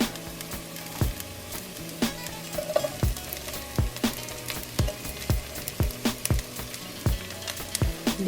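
Garlic sizzles steadily in hot oil in a pan for a Filipino pinangat of pampano fish with tomato and tamarind, with a dense frying crackle and sharp clinks of utensils against the pan recurring throughout. No one speaks.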